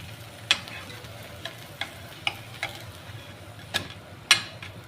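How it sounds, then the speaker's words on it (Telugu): Moong dal and rice dosa (pesarattu) cooks on a pan with a soft continuous sizzle, broken by a few sharp clicks and scrapes, heard close and fairly quiet. "దోశ అయితే వేసుకుంటున్నాను ఇక్కడ"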